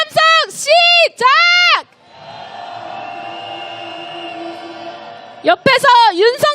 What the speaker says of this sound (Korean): 윤석열 탄핵의 함성 시작!